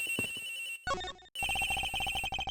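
A telephone rings in the Ace Attorney Investigations video game. A bright electronic trill plays, breaks off briefly, then returns as a fast run of evenly pulsed rings, close and clear with no talking.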